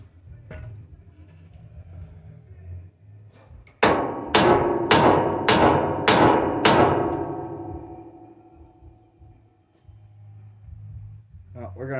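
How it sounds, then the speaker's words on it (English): Six sharp, evenly spaced metal hammer blows on a stuck part of a Toyota pickup truck getting a welded flatbed and crane, loud and close, with quiet talk before and after. "Hammer, hammer, hammer, hammer."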